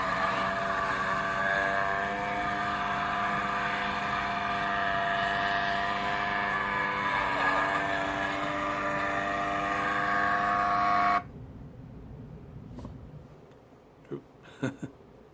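A rusted push lawn mower's small engine drones steadily and loudly up close for about eleven seconds, then cuts off abruptly, leaving quiet with a few faint knocks and clicks.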